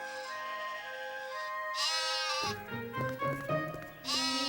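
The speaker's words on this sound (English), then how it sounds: "looking after a flock of sheep up in the hills" Several sheep bleat close by, wavering calls one after another, with a short pause between them.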